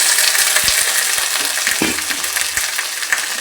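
Vegetables sauté in hot oil for sambar, a loud, close, continuous sizzle and crackle punctuated by a few soft stirring knocks, with no talking.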